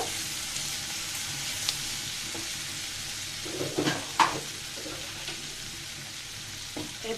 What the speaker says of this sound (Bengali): এবার আলু আর পেঁয়াজগুলো একসাথে ভেজে নেব